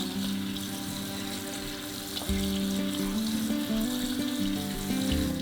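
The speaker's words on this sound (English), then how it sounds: "Drain the noodles and broccoli under cold water to stop the cooking process." Cooked noodles and broccoli drained under cold running tap water, a steady close rushing splash in a sink with a faint hum beneath.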